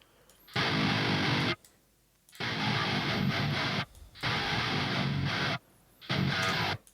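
Heavy metal band mix with distorted guitar running through an Archetype Gojira X amp and a Tube Screamer, loud dense bursts separated by abrupt short stops in a stop-start breakdown rhythm.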